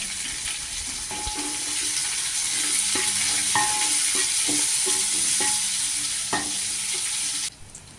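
Onions sizzle and hiss in hot oil in a large pot for sambar rice, while a spoon scrapes and knocks against the pot now and then, close and continuous, ending abruptly.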